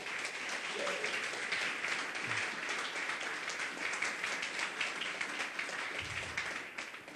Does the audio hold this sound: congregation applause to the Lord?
yes